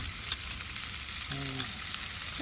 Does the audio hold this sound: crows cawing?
no